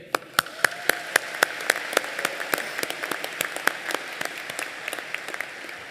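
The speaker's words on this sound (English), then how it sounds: "let's give ourselves a huge round of applause" At a 2024 high school convocation in Abbotsford, graduates applaud together, sharp individual claps ringing out in a steady irregular patter that grows denser and softer over several seconds.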